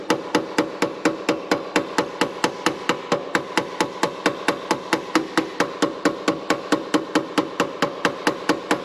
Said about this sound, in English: and just look with a hammer.